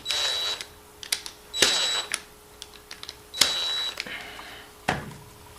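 A screwdriver tightening terminal screws on a replacement extension cord plug end: close, sharp clicks and short squeaky ratchet-like bursts in several separate spurts, with no voices.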